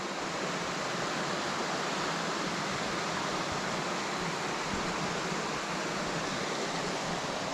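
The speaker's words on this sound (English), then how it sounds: "Love the sound of the water." Water rushes steadily down the rocky stream of Gunnerside Gill, a constant broadband wash that holds at even strength throughout with no voices over it.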